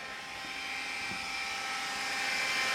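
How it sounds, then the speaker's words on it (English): Cooling fans on an electric vehicle's DC motor setup whir steadily and continuously at close range, a smooth high hum with no talk over it. "Those fans are making noise on there"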